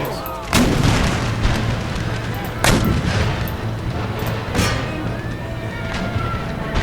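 Cannons fire canister shot in the Empire: Total War strategy game (Darthmod), with several loud, sharp booms spaced a couple of seconds apart over a continuous rumble of battle noise.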